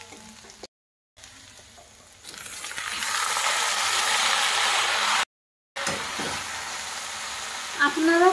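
Kushi vegetable tipped into browned onions in a hot pan bursts into a loud, rising sizzle, with spatula scrapes and stirring clatter near the end.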